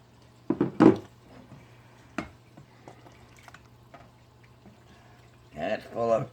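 Vegetable soup with hamburger meat is ladled from an Instant Pot into a bowl, giving a few close wet splashes and metal clinks, then soft drips and scrapes, before a person briefly talks at the end.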